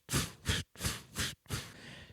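A voice imitates a bat flapping its wings with four breathy, whooshing bursts in a steady rhythm, close and fairly loud, trailing into a softer hiss.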